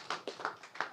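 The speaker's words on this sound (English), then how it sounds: "Let's give him a round of applause" Crowd applause for boxer Lamont Roach at a post-fight boxing event, a brief burst of clapping with rhythmic peaks, moderately close and fairly faint.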